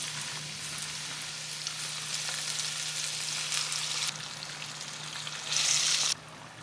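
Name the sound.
calamares frying in oil over medium heat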